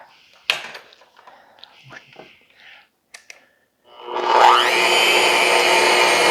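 Electric mixer whirring through whoopie pie batter made with vegetable oil, starting partway in and running steady and loud after soft handling clatter and low talk.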